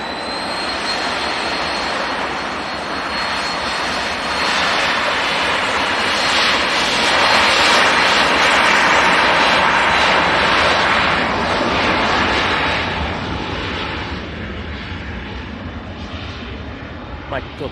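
An airliner takes off at Manchester Airport, its jet engines building into a loud, broad roar that peaks mid-way and then slowly fades as the aircraft climbs away.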